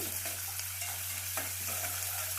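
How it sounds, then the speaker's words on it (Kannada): Urad dal, curry leaves and onion fry in a pan for cabbage palya. A soft, steady sizzle runs throughout, with scraping stirs close by at a low level. "ಉದ್ದಿನ ಬೇಳೆ ಕರಿಬೇವು ಈರುಳ್ಳಿ ಹಾಕ್ತಾಯಿದ್ದೀನಿ ಸ್ವಲ್ಪ ಕೈ ಕೈ ಆಡಿಸ್ತೀನಿ"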